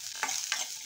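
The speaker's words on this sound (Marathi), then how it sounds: "कांदा आणि खोबरं आपल्याला व्यवस्थित परतून घ्यायला पाहिजे" Onion and coconut sautéing in a pan: a faint hissing sizzle broken by two quick stirring scrapes of a spatula.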